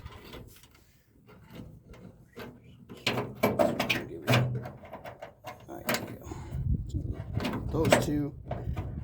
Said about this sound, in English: make sure when you're closing the door, those two slide in and out as you shut the door.